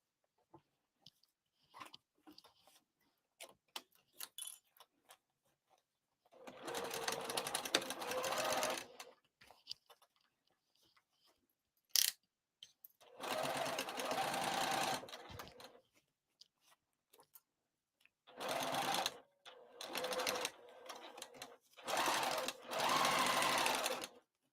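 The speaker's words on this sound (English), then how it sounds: "So let's go back to the sewing machine." A sewing machine stitches a crossbody bag at a stitch length of 3, running in several separate close, loud bursts of steady whirring with quiet handling noises in between.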